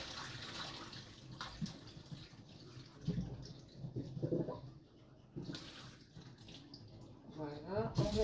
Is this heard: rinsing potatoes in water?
yes